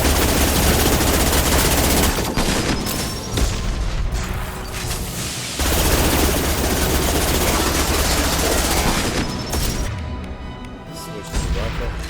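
Rifle gunfire rattles in Mass Effect 2 in dense, loud bursts mixed with crashing impacts and booms, stopping in short pauses before the firing resumes.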